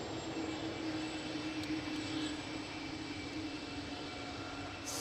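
Steady broad roar of a passing airplane at Schiphol Amsterdam airport, loud and continuous throughout, with a faint steady whine riding on top and no voices.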